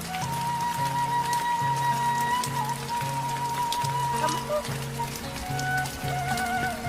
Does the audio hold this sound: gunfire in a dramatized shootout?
no